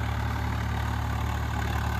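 A Swaraj 855 FE tractor pulling a laser leveller through soil runs with a steady, heavy low engine drone and a constant rhythmic throb, close and alone with no talk.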